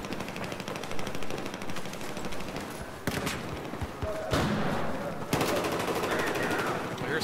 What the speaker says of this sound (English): I hear someone firing.